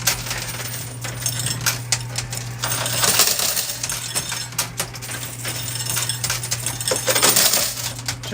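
Metal coins drop and clink repeatedly in a coin pusher arcade machine, a busy jangle of bright chinks over a steady low mechanical hum, with scattered bursts of cascading coins.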